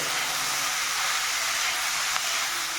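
Green beans and banana stem hit a hot pan of browned coconut, giving a loud, steady, close hiss that holds evenly throughout, with no talking.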